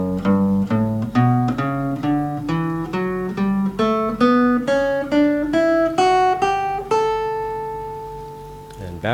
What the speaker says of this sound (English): So the entire shape sounds like this